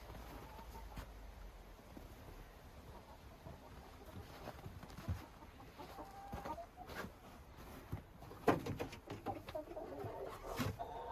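Chickens in a snowy winter yard after a heavy snowstorm, giving scattered soft clucks and short calls at close to middle distance over a quiet outdoor background, with a few louder bursts near the end.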